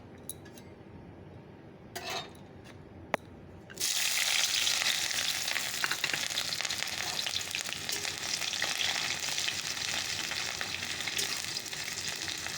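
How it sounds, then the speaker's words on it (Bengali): Onion and chili sizzle loudly and steadily after dropping into hot oil in a kadai, following a few quiet clinks and taps. "কড়াই তেল দিয়ে দিয়েছি তো চলো পেঁয়াজ আর লঙ্কাটা ছেড়ে দিই"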